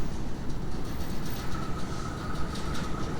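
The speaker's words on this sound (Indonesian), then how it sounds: "Motor papasan sama kereta." A train rolls past close by while a motorbike waits beside the tracks near the Cisomang bridge, a loud steady rumble with rhythmic wheel clatter and a faint high squeal throughout.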